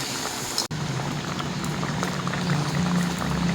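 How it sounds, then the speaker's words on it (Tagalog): Sapsap fish simmering in a tomato stew gives a steady, close bubbling and gentle boil, a continuous wet crackle with a brief break near the start. "Konting kulo lang po ito, luto na."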